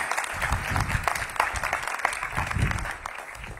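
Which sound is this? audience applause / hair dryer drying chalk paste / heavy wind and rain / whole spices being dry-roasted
audience applause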